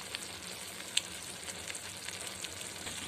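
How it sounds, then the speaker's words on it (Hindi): Spice masala for matar paneer cooking on a low flame, a faint, soft sizzle with light crackles and one brief clink, quiet and steady with no talk. "ये देखिए फ्रेंड्स, हमारे मसाले पकने लगे हैं"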